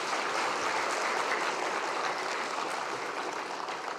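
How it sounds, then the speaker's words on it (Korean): Dense, steady applause fills a church hall as the congregation claps for its orchestra during a New Year's Eve worship service, loud and continuous with no talking over it. "우리 수광 광릉숲 오케스트라를 위해서도 박수 한번 합니다."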